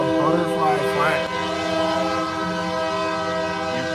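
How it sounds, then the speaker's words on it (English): A passing train sounds its horn outdoors, a loud sustained multi-tone blast that wavers briefly at first and then holds steady over the rumble of the train. "Here comes the train right now. And the train horn started singing."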